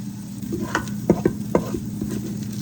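Onions frying in a pan, turning translucent, with a steady low sizzle under a few sharp scraping stirs of a utensil, close and fairly clear.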